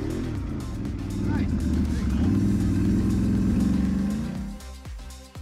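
A Can-Am Renegade ATV engine drones loud and close while climbing an obstacle, holding a strained steady note before easing off near the end.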